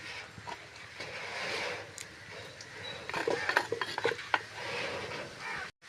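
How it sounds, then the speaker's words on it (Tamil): Eggplant gets mashed into coconut milk in a pan on the stove, with soft scraping, stirring and clinks of a utensil against the metal pan, fairly quiet and irregular, and no talking. "இப்போ கத்திரிக்காய் நல்லா அவிஞ்சிட்டு பாலில் இப்போ நல்லா அதை மசிச்சு விட்டுக்கொள்வோம்"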